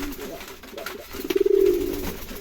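A pigeon gives a short, close, soft rolling coo midway through, over faint background murmur and room noise.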